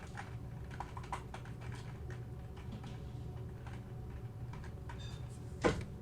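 Keystrokes on a computer keyboard while entering programming commands, a steady patter of soft clicks over a low hum, moderately close and fairly quiet, with one sharper knock near the end.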